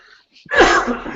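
A single loud, close sneeze, a short intake followed by an explosive burst that trails off, during a yoga teacher training session.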